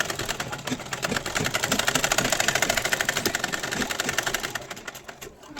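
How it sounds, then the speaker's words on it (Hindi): Sewing machine stitching the neckline of a kurti, a steady fast whirring rattle of needle strokes running continuously at close range, slowing and stopping near the end. "ये हम इस तरीके से गला स्टिचिंग कर लेंगे।"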